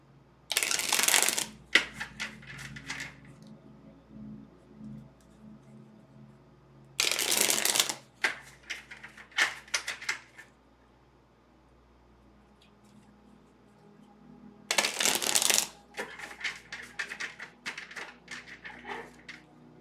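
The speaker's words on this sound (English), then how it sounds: "as I'm shuffling the cards" Divination cards shuffled by hand in three bursts of crisp riffling and flapping, each a second or two long, separated by quieter stretches of light handling and faint rustles.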